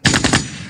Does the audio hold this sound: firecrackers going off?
yes